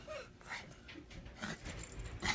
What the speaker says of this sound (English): Murray's got this funny bark, and it cracks me up.